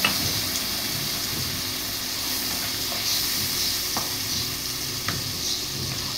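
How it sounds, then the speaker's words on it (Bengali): Spice paste of turmeric, chili powder and ginger for bacha fish curry sautés in a pan with a little water, a steady close sizzle and hiss broken by occasional spoon taps and scrapes. "এবার অল্প জল দিয়ে ভালোভাবে কষিয়ে নেব"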